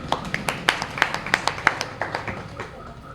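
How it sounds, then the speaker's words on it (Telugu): Several devotees at a Sai satsang clap a few times in scattered, uneven bursts, sharp nearby claps trailing off within a few seconds. "ఆవిడ గట్టి క్లాప్స్ కొట్టండి."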